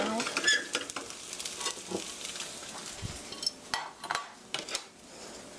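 Green onion pancake batter sizzles in a hot frying pan as it is shaken and scraped, with metallic clinks and clatter over a continuous hiss.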